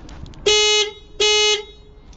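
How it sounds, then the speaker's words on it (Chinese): Two honks from the stock, hoarse-sounding horn of an Iveco camper van, each blast lasting about a third of a second, loud and close, with a brief gap between them and no talking. "你听这个喇叭多难听"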